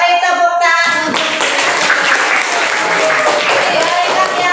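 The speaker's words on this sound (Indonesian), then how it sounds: "Beri tepuk tangan untuk" Clapping from an audience at a ranking announcement breaks out after a brief spoken line, then runs as a steady patter of many hands while a voice continues over it.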